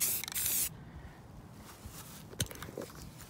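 A short, close burst of spray from a can misting brown paint onto a 1949–1950 Plymouth dashboard during wood-grain refinishing, lasting under a second, followed by faint handling rustles.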